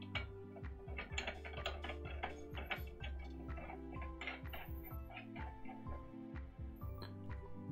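A Quadcast adapter is screwed onto a microphone boom arm, giving a run of quiet, close ratcheting clicks and small mechanical ticks in an uneven rhythm, with no talking.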